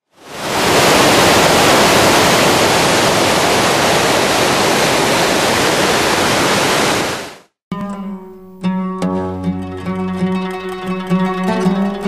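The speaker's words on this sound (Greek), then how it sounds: "Τα νερά κρύα νερά ευλογημένα" Cold spring water flows near the Prytanis river in Pontus, a loud, steady rushing wash that fills the first seven seconds before cutting off abruptly into music.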